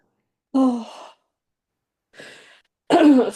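A person sighs, then lets out a short, soft breathy sound, followed by a harsher cough at the end, close and in a quiet room.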